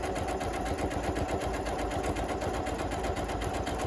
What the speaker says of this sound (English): And then needle down when you start sewing again, and foot down.